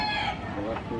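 Chickens and quail cluck and crow close by in a busy farmyard with goats and rabbits, with voices murmuring in the background.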